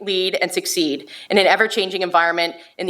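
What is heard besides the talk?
No distinct noise like a dog, phone or traffic.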